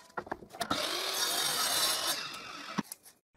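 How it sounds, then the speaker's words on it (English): Miter saw cutting the ends of wooden window strips, a single bright, hissing cut lasting a couple of seconds, with brief clicks and knocks before and after, fairly quiet and close. "First, I meter cut the end of the four strips I will use to make the window."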